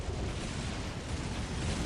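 A small stunty cannon in Dawn of War: Ultimate Apocalypse rumbles in a dense, continuous roar of battlefield artillery, loud and unbroken with no distinct individual shots standing out.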